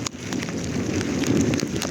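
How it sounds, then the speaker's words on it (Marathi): Heavy rain pours steadily during a mountain trek from Panhala to Pawankhind, a dense continuous wash of drops close around, loud and unbroken, with no voices. "एवढा पाऊस आहे"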